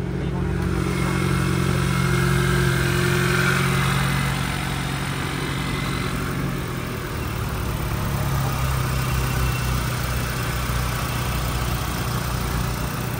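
A Ford Mustang 2024 with a 2.3 litre EcoBoost engine idling, a steady low rumble under someone talking throughout.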